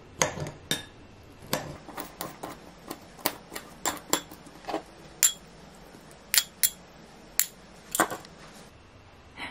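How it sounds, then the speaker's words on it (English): Knife chopping pickles into small relish-sized pieces on a cutting board, a string of sharp, close taps in an uneven rhythm over a quiet background. "I'm going to cut those up into smaller little pieces so they're more like a relish instead of a whole pickle."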